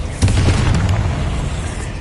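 A Bombarda spell detonates in Hogwarts Legacy, one deep booming blast followed by a rumbling, fading roar.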